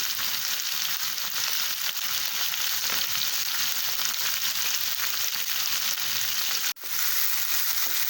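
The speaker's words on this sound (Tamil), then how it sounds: "பச்சை மிளகாவை ஆட் பண்ணிவிட்டு அதையும் நல்லா வதக்கிடலாம்." Onions and green chillies sauté in a pan with a loud, steady sizzle and crackle that runs throughout. There is one brief scrape from stirring near the end.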